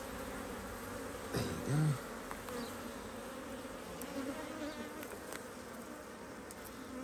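Honey bees from a HiveIQ beehive under inspection give off a steady, dense buzzing hum throughout, with a brief thump and a short spoken remark early on.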